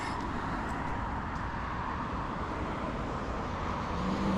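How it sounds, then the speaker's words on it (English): Steady road traffic rumbles beside a pond early on a Sunday morning, a continuous broadband wash of passing cars with no distinct single vehicle standing out, moderately loud throughout and slightly swelling at the end. "Gonna be hearing a bit of traffic."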